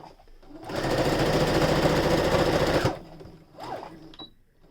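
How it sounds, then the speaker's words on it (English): A sewing machine runs a steady straight stitch on a beginner's face mask for about two seconds, loud and close with a fast even whirring pulse, then stops and leaves quiet handling noises. "now we're going to straight stitch that"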